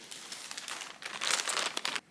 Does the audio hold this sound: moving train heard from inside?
no